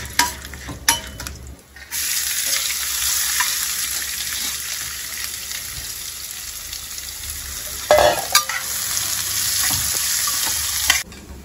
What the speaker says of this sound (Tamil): அடுத்து வெங்காயம் போட்டுக்கிறோம்.